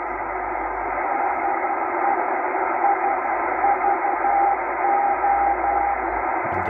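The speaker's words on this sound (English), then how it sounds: "SVO is the Morse code that it's giving out." A faint shortwave maritime channel marker from SVO Olympia Radio in Greece keys its Morse identifier as a steady rhythm of short and long beeps. It sits under constant radio hiss on a Tecsun H-501X receiver with a loop antenna.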